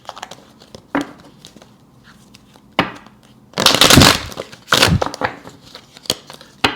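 Tarot cards being shuffled in brief bursts: a few sharp riffling crackles and slaps spaced apart, with one longer burst in the middle, close and fairly loud against a quiet background.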